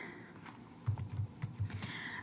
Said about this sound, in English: I can use my backspace key and backspace over top of it